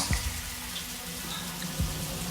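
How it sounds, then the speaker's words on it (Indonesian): A bathroom water tap runs hard, giving a steady, strong rushing flow that stays fairly even from start to finish, with no voices. "Namun memang keran airnya menyala sangat deras."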